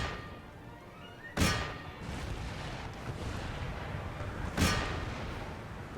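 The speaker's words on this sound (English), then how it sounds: "So I think it's high time our artillery fired upon their artillery, whatever they've hidden it." Artillery fire in the video game Empire: Total War during the Battle of Naples, two sharp booming shots about three seconds apart over a rumbling battlefield background.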